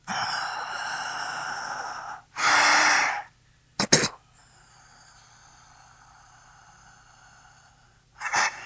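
A few slow, deep breaths drawn in and let out, soft and close, with low ambient tones humming between them during a calm guided meditation.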